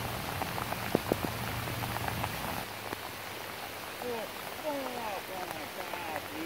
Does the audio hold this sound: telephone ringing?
no